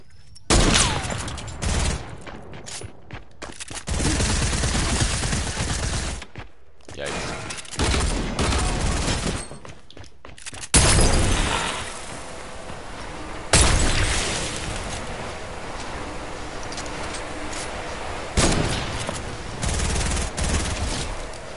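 Heavy gunfire in Fortnite on PS4, with loud sustained volleys and bursts of shots cut by brief silent gaps, continuing throughout with crashing impacts.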